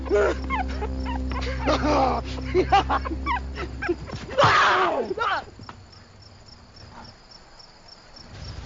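A small dog whimpers and yips amid a noisy scene with steady insect-like chirping and background voices, the whining peaking briefly midway before fading under a persistent hiss.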